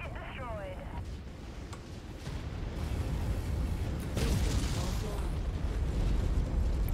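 Explosion of a destroyed enemy target in the MechWarrior 5 video game, a loud rumbling blast that swells midway and sustains into heavy low roaring through the end, with brief tonal game sounds at the start.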